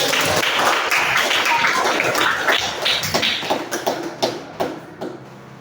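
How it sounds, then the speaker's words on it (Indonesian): Classroom group applauding in a lesson, clapping loud and dense at first, then thinning into scattered individual claps as it dies down, with some voices underneath. "silakan tepuk tangan bagi kita"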